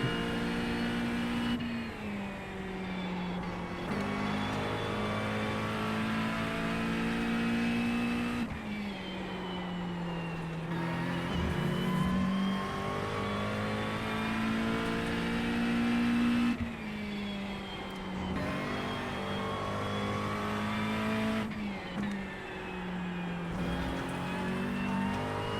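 A GT3 race car howls around Brands Hatch in iRacing, its engine note climbing steadily and dropping sharply at each gear change, loud, close and continuous with no talk.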